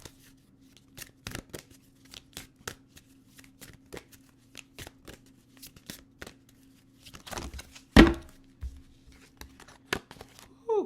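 Tarot cards being shuffled by hand in quick, irregular riffles and soft flicks, close and fairly quiet, with one sharper louder snap partway through against a faint steady hum.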